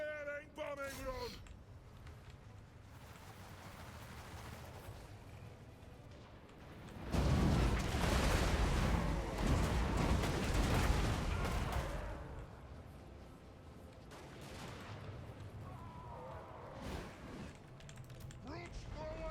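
Bombing run explosions in the video game Total War: Warhammer during a Dwarfs Mortal Empires battle, a roaring swell of blasts that rises sharply and sustains for several seconds before fading, with battle voices shouting before and after.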